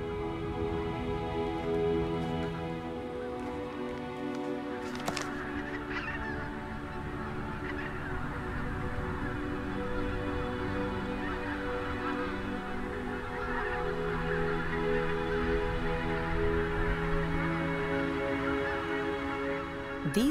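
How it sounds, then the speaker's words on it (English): Greylag and migrant wild geese honking continuously at their feeding grounds near Lake Neusiedl, a dense flock calling over one another in a steady, loud chorus with layered overlapping honks and no voices. "These geese have arrived at their feeding grounds."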